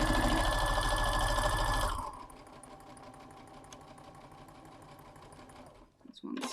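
A sewing machine stitches a patchwork block, a fast loud mechanical whir for about two seconds, then a quieter low hum as it slows and stops.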